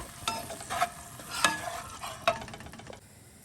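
Ginger-garlic paste fried to golden in a pan sizzles as a little water is added, with repeated bursts of hissing and scraping from stirring.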